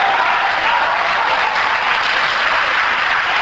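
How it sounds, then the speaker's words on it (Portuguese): A church congregation applauds during a sermon, with loud, dense, continuous clapping that holds steady throughout and no speech over it. "Pode aplaudir Jesus porque Ele merece."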